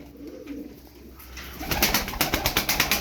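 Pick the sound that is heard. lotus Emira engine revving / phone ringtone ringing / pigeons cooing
pigeons cooing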